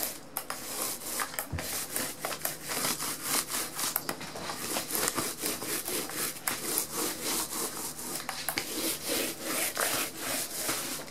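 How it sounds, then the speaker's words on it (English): Rapid, rhythmic scraping strokes of a brush across a large cardboard sheet, steady and close, with no talking. "See how fast I'm painting this in?"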